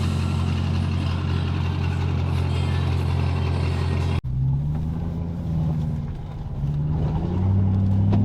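A loud aftermarket exhaust on an Audi RS6 roars through a cold start: a sustained deep rumble cuts off abruptly, then resumes at a lower, wavering high idle, close and loud with no talk.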